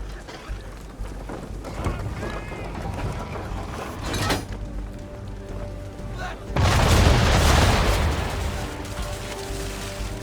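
Ship cannons boom in an Assassin's Creed 3 naval battle, several heavy blasts rumbling beneath a noisy, rain-like wash before one loud broadband explosion hits and lingers.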